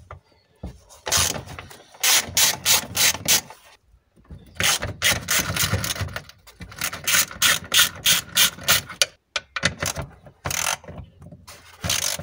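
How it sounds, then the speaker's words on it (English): A hand ratchet loosens bolts from the dashboard of an Alfa Romeo 33 1.7 16v, sounding in fast, close bursts of sharp clicking strokes separated by brief pauses. "Take out these three bolts."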